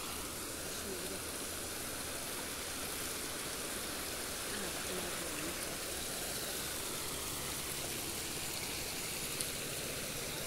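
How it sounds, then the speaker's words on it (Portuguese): Waterfall pouring into a reservoir at a new dam (açude) on a rural farm in Orós, Ceará, Brazil: a steady, dense broadband rush of falling water, loud and unbroken throughout, with no voices. "Essa queda d'água aqui maravilhosa."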